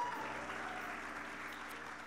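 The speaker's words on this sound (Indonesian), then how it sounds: "Tepuk tangan buat Kak Semi." Audience at a conference applauding, a steady wash of clapping from many hands that holds throughout and fades slightly toward the end.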